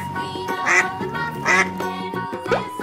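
A duck gives three loud, close quacks spaced roughly evenly apart, alone with no other sound around it.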